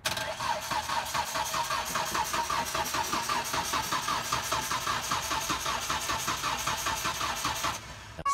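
A truck engine cranking over with a fast, even rhythmic churn from the starter for several seconds before cutting out, close and loud.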